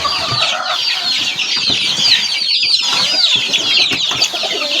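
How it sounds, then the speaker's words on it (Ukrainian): A crowd of hungry chickens and chicks calls nonstop up close, loud shrill cheeping and clucking overlapping with no pauses. "А курчата кричать теж. Вже їсти хочуть."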